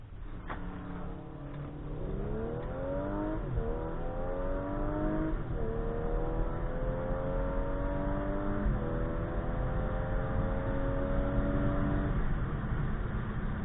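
An Audi SQ5 accelerates hard through its gears, the engine note climbing steadily and then dropping at each upshift, with about four rising sweeps. It is heard from inside the car, loud and continuous, with no talking.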